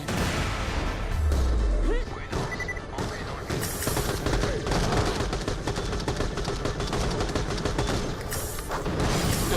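Dense gunfire from the video game Borderlands: The Pre-Sequel: rapid automatic bursts and heavy booms run almost nonstop and loud, with a low thump early on.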